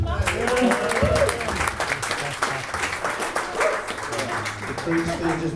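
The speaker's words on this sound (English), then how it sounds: "Give him an applause" Audience applause at a meetup as a founder takes the floor, a moderate patter of clapping mixed with a dog's whimpers, yips and barks, with voices talking over it.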